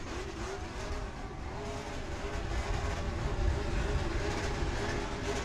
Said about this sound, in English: Lassard going to do a little victory burnout for you.